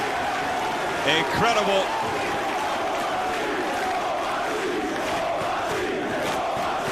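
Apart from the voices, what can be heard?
wrestling crowd cheering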